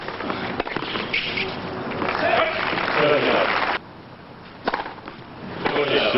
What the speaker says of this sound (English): a roar goes up from this crowd here at the hamlet